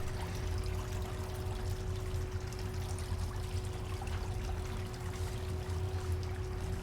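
Water runs steadily through a gold concentrate processing machine by the South Fork Yuba River, a constant pouring trickle over a low motor hum with a steady tonal drone, no pauses throughout.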